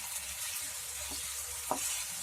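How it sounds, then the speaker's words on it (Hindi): Mutton pieces fry in a pan with a constant bright sizzle, close and even, broken by a couple of soft stirring scrapes. "चलिए अब हम गोश्त को अच्छे से भून लेते हैं।"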